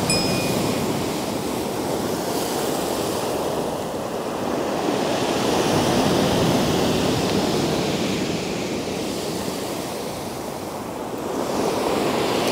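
Sea waves at Sochi on the Black Sea coast, a continuous roar of surf with gentle swells rising and falling, mixed with wind buffeting the microphone and no voices.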